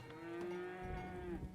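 Cattle in a farming simulation game let out a single long, drawn-out moo, clear and moderately near over a low background murmur.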